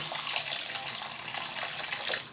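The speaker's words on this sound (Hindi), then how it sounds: "इसमें हम पानी डालेंगे। पानी जाएगा तकरीबन आधा लीटर" About half a litre of water is poured into a wok holding 400 g of sugar to start a syrup, a steady splashing gush heard close and alone for a couple of seconds.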